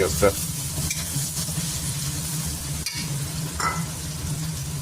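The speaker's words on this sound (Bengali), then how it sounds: "পেঁয়াজটাকে আমি একটু নরম করে ভেজে নেবো, একটু ব্রাউন কালার আসা পর্যন্ত।" Chopped onion frying in hot oil in a pan, a steady close sizzle with occasional stirring scrapes and clicks running through the whole stretch, no voice.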